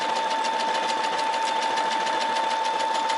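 A Brother SE630 sewing and embroidery machine stitches fabric with a steady, quiet, rapid mechanical hum and even needle ticking, close by and uninterrupted.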